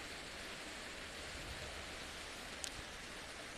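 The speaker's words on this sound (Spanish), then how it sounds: "está lloviendo" Steady, even hiss of rain falling, with a soft occasional patter and a brief faint click near the end.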